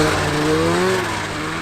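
Vintage snowmobile engine revving unevenly with a rough-sounding clutch, loud and close, with a wavering drone that climbs and then sags over a steady rumble.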